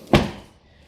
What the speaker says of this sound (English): Everything's okay as I open and close the door.